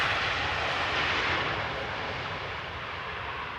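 A passenger airliner arriving at Amsterdam Schiphol Airport gives a broad, loud roar of engine noise that fades slowly as it passes, with no voices.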